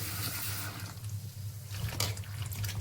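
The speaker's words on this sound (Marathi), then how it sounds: "ह्याला खळा खळा असं दोन तीन पाण्याने धुवून घ्यायचं" Bitter gourd being washed in a sink or basin, with steady splashing and running water and a brief louder swish near the end, close and alone with no talk.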